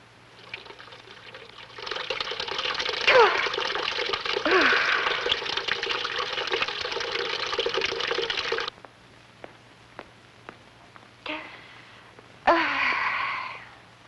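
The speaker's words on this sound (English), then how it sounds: "I think I better get some water on my face" Water splashes and pours in a steady, close-up rush for several seconds, then stops, followed by a few soft drips and another short burst of splashing.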